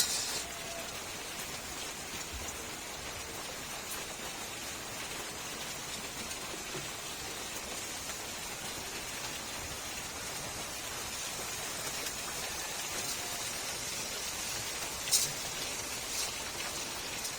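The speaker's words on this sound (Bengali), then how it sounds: "আজকে তো অনেক বৃষ্টি" Heavy rain falls steadily on a village setting, a dense, even hiss of drops on surfaces lasting throughout, with a single sharper tap near the end.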